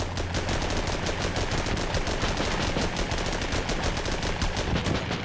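Dense, continuous gunfire in the tank combat video game Armored Battle Crew, rapid machine-gun bursts and overlapping shots sustained and loud throughout with no pause.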